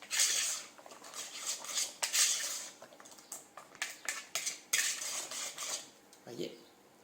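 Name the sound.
mixing courgette and carrot terrine preparation with a utensil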